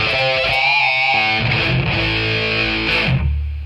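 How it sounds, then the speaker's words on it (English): An electric guitar plays through a Soldano SLO Super Lead overdrive pedal with reverb engaged, giving sustained distorted chords and notes that ring out with a reverberant tail, loud and alone. "We've got the reverb on."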